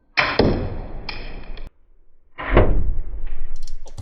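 Two sharp impacts of arrows from a powerful bow striking a car door, each a loud close thwack with a brief metallic ring, separated by a short pause.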